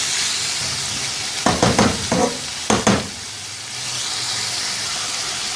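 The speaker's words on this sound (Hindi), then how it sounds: "अब इसको 3-4 मिनट अच्छी तरह से भूनेंगे" Beef pieces frying in a pot, a loud continuous hiss and sizzle with a few quick bursts of stirring and scraping in the middle before settling back to a steady fry.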